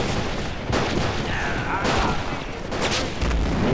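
Gunfire crackles through a Korean War video game battle, a dense, continuous stream of overlapping shots and bursts with booms mixed in, loud and close for the whole stretch.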